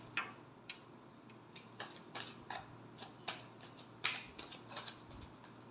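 Tarot cards are shuffled by hand in a quiet room, giving a soft, irregular series of light flicks and riffles against a low steady hum.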